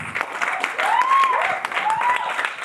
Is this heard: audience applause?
yes